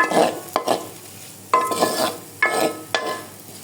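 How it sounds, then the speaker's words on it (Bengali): Chopped onion and garlic stirred and fried in a pan, a soft sizzle broken by four or five sharp scraping strokes of the spoon, close and clear with no talking. "ঢেলে দিয়ে এটা আমি নাড়াচাড়া করতে থাকবো"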